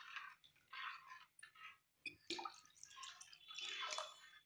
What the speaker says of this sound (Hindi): अब इसमें पानी अभी हम और डालेंगे